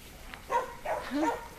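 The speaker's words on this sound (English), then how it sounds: "The dogs are on alert today, aren't they, Sarah?" On a large family homestead in summer, dogs give three quick, moderately loud barks in close succession against a quiet outdoor background.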